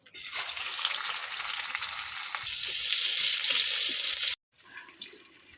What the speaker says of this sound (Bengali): তো পেঁয়াজটা বাজিয়ে দিচ্ছি